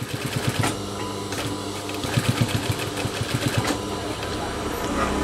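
A sewing machine stitches the waistband of jeans being let out, running in short rhythmic bursts with mechanical knocking and a continuous hum, close and fairly loud.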